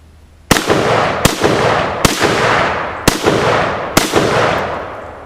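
Five loud, sharp rifle shots from a 1953 Tula-built Russian SKS, fired one at a time at a steady pace about a second apart, each with a long ringing decay and no talk.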